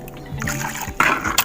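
Water poured from a container onto a potted plant in a container garden, splashing and trickling close by in short bursts with a louder gush near the end.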